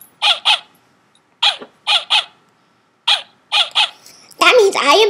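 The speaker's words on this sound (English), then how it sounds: "That means I am barking at some dude." Short, sharp barks come in quick pairs, close and loud with silent gaps between, ending in a rougher, drawn-out bark.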